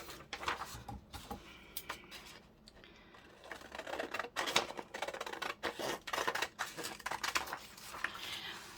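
Scissors snip through a piece of card during junk journal crafting, a run of short crisp cuts in an uneven rhythm, close and fairly quiet with no talking.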